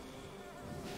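Bees buzz in the Hive area of the Hollow Knight video game, a steady, faint insect drone that holds evenly through the whole second with no talk.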